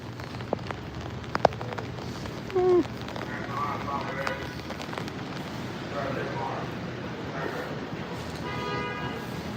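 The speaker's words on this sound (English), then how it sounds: "That's some moderate rain coming down." Moderate rain pours steadily during a convective storm in New York City, a dense broadband hiss with scattered pops and patters close by, while a person's voice and exclamations come through briefly.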